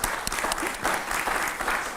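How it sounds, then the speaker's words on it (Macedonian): Steady audience applause fills a television studio, continuous and fairly loud clapping from a crowd with no talk over it. "ќе му дајете аплауз"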